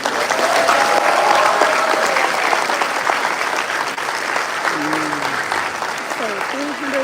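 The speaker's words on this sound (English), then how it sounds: "a round of applause for everything on the development team" Audience applause fills a convention panel room at a GI Joe event, a loud, steady roar of clapping that gradually thins over several seconds while a few voices call out.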